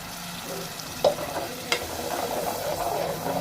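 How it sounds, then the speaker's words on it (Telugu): A paste of onion, coriander, cashew, poppy seed and tomato fries in a pan for chicken bagara rice, giving a soft, steady sizzle with a couple of scraping stirs. "ఇప్పుడు ఈ పేస్ట్ అన్నట్టు నేను వేసుకుంటున్నాను"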